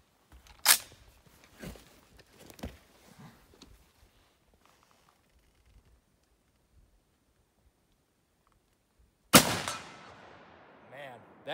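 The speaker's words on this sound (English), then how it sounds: "I've only shot this rifle like less than 10 times, so we'll see what it does." Swiss K11 rifle fired twice: one sharp report near the start with faint echoes trailing off, a long quiet stretch, then a second loud close shot with a ringing tail.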